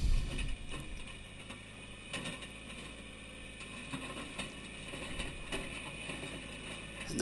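A small Kubota machine digs and scrapes rocky ground for a trench, giving a steady mechanical rumble with grinding, clanking bursts, heard up close with no talk.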